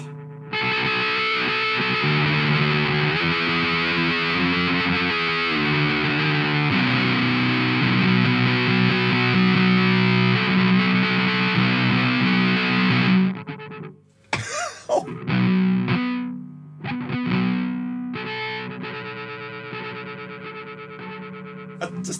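Thick, heavily distorted Warm Audio Foxy Tone Box fuzz pedal tone at full gain, sustained loudly for several seconds, then choppy bursts and scratchy noises as the playing breaks up.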